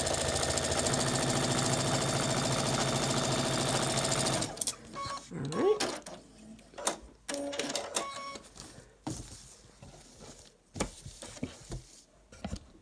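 A sewing machine stitches a quilt block in a steady, loud run for about four seconds, then falls into short stop-start bursts with small handling clicks and faint background noise.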